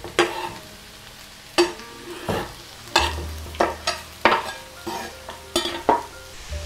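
Spinach sautés in a pan for a spinach and cheese pie filling, with a steady low sizzle broken by about ten sharp, regular stirring scrapes.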